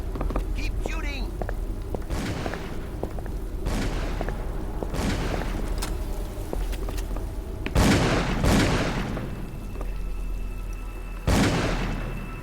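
Gunfire in the 2006 horror game Call of Cthulhu: Dark Corners of the Earth: several loud, sharp blasts with decaying tails, spaced irregularly over a low rumbling background, the last few strongest.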